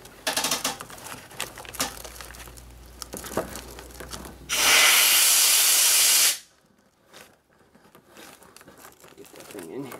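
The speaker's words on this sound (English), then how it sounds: "so pressurize this hose here now." A pressurized hose gives a loud, broad hiss of spray for about two seconds and then stops abruptly, with handling noises and rustling before and after.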